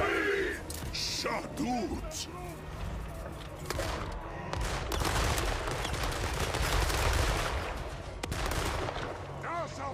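Dense, continuous gunfire and battle noise from a Total War: Warhammer 3 fight, with crackling volleys and rumbling blasts layered throughout, loud and busy, with occasional voice-like calls mixed in.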